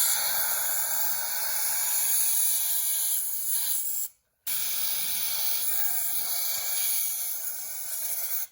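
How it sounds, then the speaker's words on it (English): Compressed air from an air gun forces diesel fuel through a tube on a square body truck, a loud continuous hiss broken by one brief pause, then resuming steadily. "we're gonna use the air pressure to spray it all down in there"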